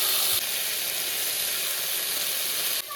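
Cut taro stolons and slit green chilies frying in a little oil in a wok, giving a steady loud sizzle and hiss with a brief shift near the start and a sudden drop near the end.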